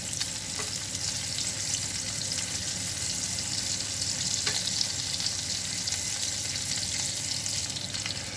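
Shrimp fry in a pan for a cheesy shrimp and sausage penne Alfredo, giving a steady, close, even sizzle with faint crackles throughout and no voices.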